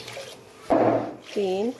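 Water is poured from a cup into a wok to make sugar syrup for ras malai, with two short bursts of splashing pour heard close by, separated by a brief pause, while someone speaks.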